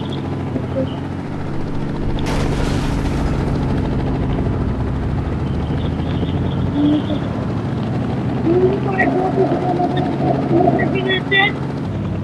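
A helicopter's rotor drone runs steadily throughout, with a brief burst of noise early on and scattered chirps and short electronic blips near the end.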